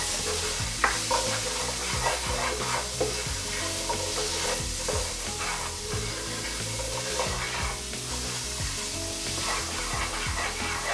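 Vegetables sizzling and being stirred in a hot pan, steady frying hiss with repeated scraping and clattering strokes, no talking.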